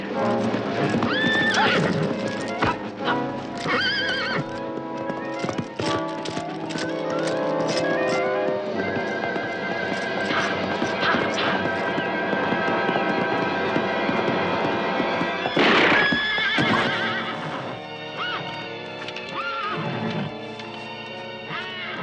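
A horse neighs loudly several times over steady clip-clopping hooves, close by, with a busy, dense background throughout.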